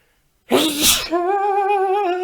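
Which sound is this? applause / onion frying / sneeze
sneeze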